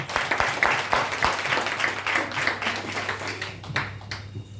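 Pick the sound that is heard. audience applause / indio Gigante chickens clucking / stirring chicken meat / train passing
audience applause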